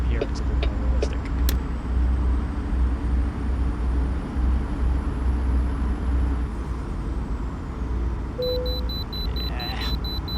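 A Kenworth T880 truck in American Truck Simulator rolls steadily over the road with a continuous low engine and road rumble, faint rattles, and a brief tone and beeps near the end.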